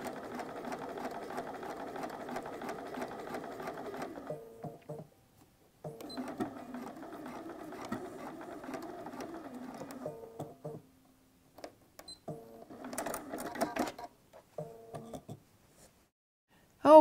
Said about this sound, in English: So right now all I'm doing is just sewing the center seam.